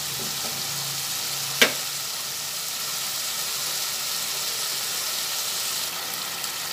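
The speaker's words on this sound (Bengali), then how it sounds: "সব মিশিয়ে একবারে ভাজা হচ্ছে।" A spice mixture for papad curry fries in hot oil, giving a steady, even sizzle and hiss, with one sharp scrape of a spoon being stirred through the pan midway; no one speaks.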